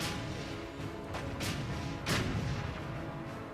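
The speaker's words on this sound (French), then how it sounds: "Un barrage d'artillerie alors qu'ils venaient vers nous pour qu'ils sachent immédiatement qu'on allait se battre." Artillery barrage from the 1944 Battle of Arracourt, a dense, continuous roar of gunfire broken by several loud, sharp blasts that crack out close and heavy over a rumbling background, with no voices.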